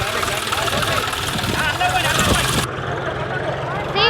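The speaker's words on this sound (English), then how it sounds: "today the tractors are going" A tractor engine running in a farm field, a steady close rumbling drone that continues throughout, with a voice speaking over it.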